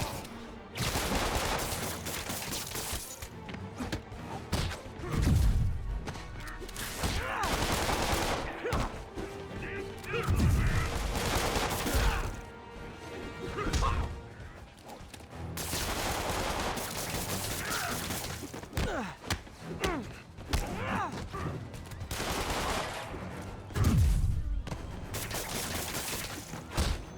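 Bursts of gunfire, crashes and heavy impacts come in repeated waves during a brawl with organized-crime thugs in the Marvel's Spider-Man video game, with shouting voices in between the volleys.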